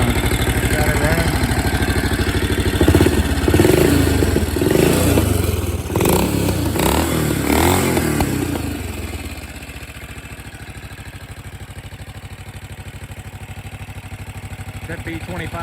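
An old BSA motorcycle fitted with a B44 441 single-cylinder engine runs in a shop, loud and close, its clattering idle and rough revs continuing for several seconds before settling to a lower steady idle, with a voice talking over it.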